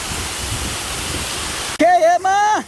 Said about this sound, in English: Now on the side of this waterfall.